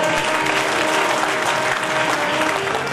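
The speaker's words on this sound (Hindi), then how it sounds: "इस मंदिर के व्यवस्थापकों के लिए भी जोरदार ताली हो जाए।" Loud, sustained applause from an audience at a Bhagavat Katha religious discourse in Darbhanga, a dense wash of clapping that continues steadily throughout without a break.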